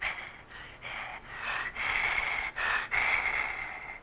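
Heavy, rhythmic breathing crackles over a radio call in the 1977 horror film The Hills Have Eyes, a series of close, raspy inhales and exhales with short pauses between, alone without talk.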